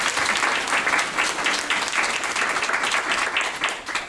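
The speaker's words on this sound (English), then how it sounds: "So let's give them another round of applause." An audience applauds steadily after a children's Year 4 Christmas music performance at a school sharing session, dense clapping that holds at an even level for the full stretch with no talk over it.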